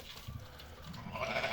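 Three female lambs for sale in Kara-Balta give a short, fairly close bleat that rises toward the end, with no voices over it.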